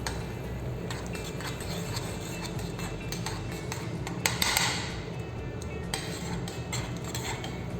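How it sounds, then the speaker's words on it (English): A spoon stirring miso paste into boiling stock in a pot, repeated light clinks and scrapes of metal against the pan over a steady bubbling hiss, close and moderately soft, with no talking. "add a teaspoon of miso paste to the stock and give it a nice stir"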